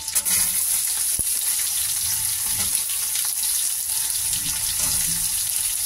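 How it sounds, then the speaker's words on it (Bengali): Garlic sizzling in a hot pan, a steady bright crackle and hiss that carries throughout with no speech over it. "রসুনটা একটু ভাজা ভাজা করে নিই, তারপরে সবজিগুলো দেবো।"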